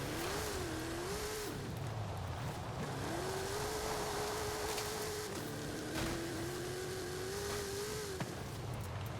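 A Ford Bronco engine in Forza Horizon 5 revs hard toward redline, a sustained droning tone that climbs, holds, drops slightly and climbs again between gear shifts, with no voices over it.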